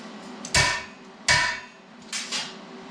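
Three sharp hammer blows ring out on metal parts of a four-link suspension kit on a 1963 Ford Galaxie chassis, spaced unevenly, each leaving a brief metallic ring.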